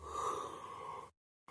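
A narrator imitates a polar bear's yawn with a long, breathy, drawn-out vocal exhale that fades into silence, followed by a brief resumed sound.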